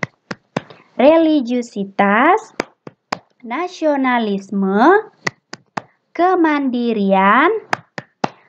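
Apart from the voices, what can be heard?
rhythmic clapping, Tepuk PPK clap chant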